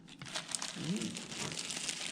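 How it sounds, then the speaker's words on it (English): Colorful tissue paper crinkles steadily as it is dumped out of a bag for a stained glass peace sign craft, a continuous close rustle with a faint voice briefly underneath. "I guess we could dump our tissue paper out and have that at the ready"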